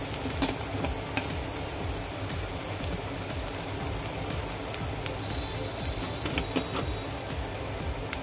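Masala and red chili powder, with Kashmiri chili, fry in hot oil for a chicken curry, giving a close, steady sizzle and crackle with scattered pops and light stirring scrapes.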